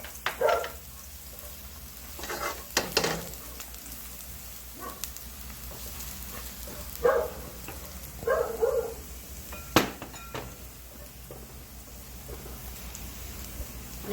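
Garlic sizzles in olive oil in a cooking pan, a soft steady crackle with brief clinks of utensils on the pan and faint kitchen noise.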